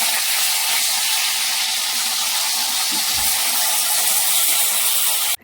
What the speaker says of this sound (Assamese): এতিয়া মই গোটেইবোৰ বেগুন এনেকৈ ভালকৈ ভাজি ল'ম।